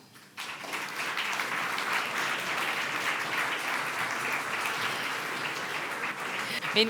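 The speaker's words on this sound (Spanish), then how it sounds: "Pedimos, si les parece, un fuerte aplauso para Susana Grau" Audience at a competition-law conference breaking into strong applause to welcome a moderator, a sudden onset of dense, sustained crowd clapping holding steady at an even level throughout.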